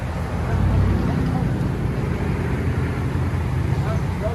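A 2015 Ram 1500 with a 5.7L Hemi V8 and dual exhaust through a Dynomax Race Bullet with the resonator deleted rumbles in a steady, loud, low idle drone that holds without a break.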